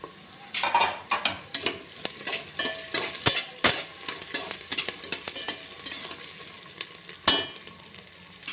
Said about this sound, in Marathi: आता बटाटे टाकते।